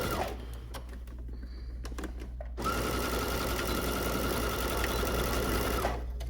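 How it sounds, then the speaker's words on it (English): A domestic sewing machine stitches a jacket outer shell seam with a backstitch, loud and close, its steady mechanical whir stopping briefly and then resuming in a longer run with a sustained hum. "we're gonna sew all the way to this dot and back stitch"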